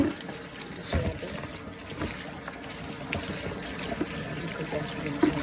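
Fresh miki noodles are rinsed under running tap water in a kitchen, a close, continuous trickle and splash with small clunks, while a person speaks now and then over it.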